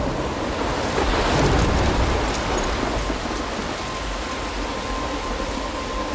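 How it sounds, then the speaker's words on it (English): Thunderstorm in Life is Strange: dense, loud rain hiss and a surf-like wash roll on continuously, with a low rumbling swell early on before settling into steady downpour. "I'm trapped in a storm?"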